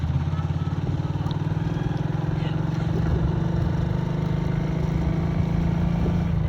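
A motorbike engine runs nearby with a steady, throbbing low rumble that holds constant throughout.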